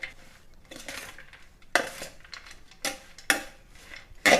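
A spoon scraping and tapping in a pan while red spinach is mixed with grated coconut, irregular clinks and scrapes, close and clear with quiet gaps between.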